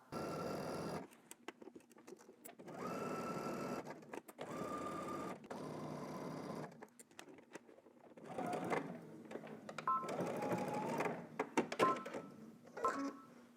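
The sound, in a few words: sewing machine stitching a seam from dot to dot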